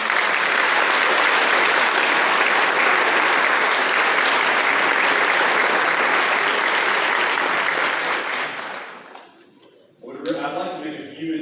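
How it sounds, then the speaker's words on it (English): A school auditorium crowd at a high school senior awards assembly gives students a long, loud, dense round of applause that fades out near the end before a voice and other sounds return. "let's give all of our students a huge round of applause."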